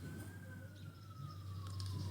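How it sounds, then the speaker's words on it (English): Police car sirens pass outside as a faint, distant wail that slowly falls in pitch, heard through a steady low indoor hum with no talking. "You hear the police sirens going right now?"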